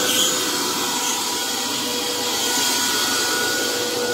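New vacuum cleaner for car washing runs steadily with an even, loud airy hiss and motor whine, unchanging throughout.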